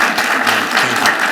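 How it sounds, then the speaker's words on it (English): Audience giving a panel a round of applause at a sports summit in Cleveland, a loud, dense burst of many hands clapping close by, brief and steady. "Can we give this panel, please, one more round of applause?"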